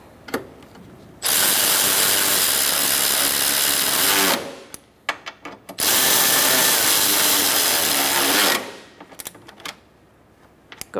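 A power tool, likely an impact wrench, runs in two sustained bursts of about three seconds each while tightening the bolts of an engine cooling fan assembly on a 2014–2019 Kia Soul 1.6L. Clicks and handling noises fall between and after the bursts, with no talk.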